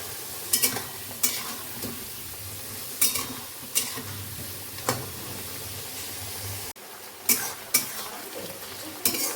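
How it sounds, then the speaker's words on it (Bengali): Potatoes hiss and sizzle in hot oil while a utensil scrapes and clinks against the pan at irregular intervals, close and fairly loud. "আলুগুলোকে ভেজে নিই"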